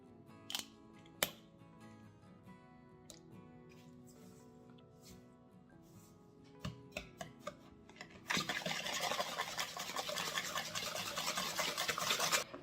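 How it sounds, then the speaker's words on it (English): Egg and sugar being mixed in a bowl for pumpkin spice carrot cake batter: scattered utensil knocks and taps, then from about eight seconds a steady, brisk whisking rush that continues to the end. "Now we're gonna move on to mix egg and sugar"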